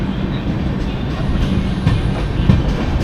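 The 12622 Podhigai SF Express rolls into Madurai station, its carriages rumbling and clattering close by in a steady, loud run, with faint clicks and squeaks of wheels on rail.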